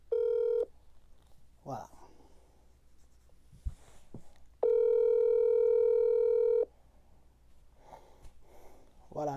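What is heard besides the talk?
telephone call being dialed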